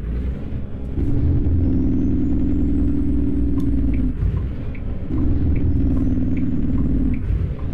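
A truck in the video game American Truck Simulator braking hard: a low engine rumble with two long sustained droning brake passes, each under a thin rising whine, loud and close with no voices.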